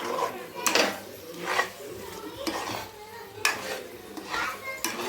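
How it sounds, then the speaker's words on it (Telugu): Pesara burelu filling mixture stirred in a pan, a spoon scraping and clinking against the metal in irregular bursts, close and moderately loud, with a faint sizzle underneath. "ఇది బాగా దగ్గరికి గట్టిపడేలా అయ్యే వరకు దీన్ని కలుపుతూ తిప్పుతూ ఉండాలి"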